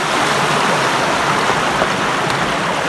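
Water gushes continuously from a makeshift pipe set up beside a waterfall, a loud, dense rushing wash that stays constant and close throughout, with no voices.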